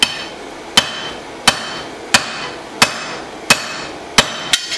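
A hammer strikes a hot steel blade laid half over the anvil's edge during blade forging, ringing seven or eight times in an even, steady rhythm, loud and close, with no talk.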